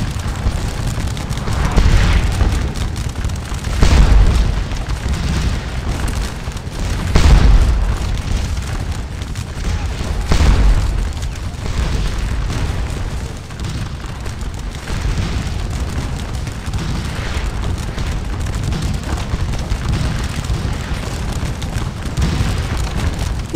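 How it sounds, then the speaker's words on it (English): Artillery shells burst in Scourge of War: Waterloo, a string of deep, rolling booms landing every few seconds over a low rumbling battlefield ambience. "allowing the artillery to put a few more shells into them"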